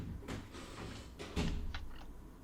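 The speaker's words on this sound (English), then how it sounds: "As soon as the homeowner opens the door" A house's front door opens in broad daylight, caught by a doorbell camera: a few soft knocks and a thud of the door moving over steady outdoor background noise, with no talking.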